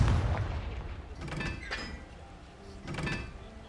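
Confringo blasting spell cast in the video game Hogwarts Legacy, heard as a few sharp booming bursts over a rumbling game soundscape, with no talk.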